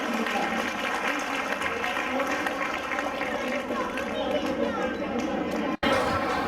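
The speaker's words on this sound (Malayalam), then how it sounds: "കുറച്ചുകൂടി ഒക്കെ കൈയടിക്കുക കേട്ടോ" An audience claps steadily throughout an Onam celebration, with a crowd chattering under the applause and a brief sharp break near the end.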